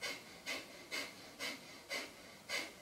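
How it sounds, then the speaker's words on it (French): Kapalabhati yoga breathing: six short, forceful nasal exhalations puffed out at an even rhythm about every half second, close and quiet with hissing air. "On travaille avec plein de petites expirations, avec les poumons presque vides."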